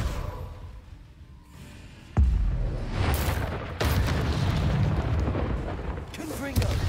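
A Confringo fire spell explodes in the Hogwarts Legacy video game, giving two sharp, heavy booms a second or so apart among other game sounds and a voice speaking.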